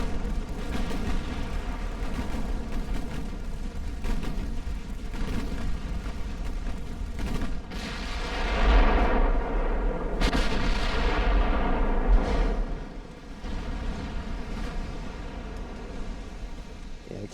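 Naval gunfire in the warship video game Ultimate Admiral: Dreadnoughts, with 1890-era hulls: a dense, continuous rumble of booming shots and distant blasts, swelling louder in the middle before easing off.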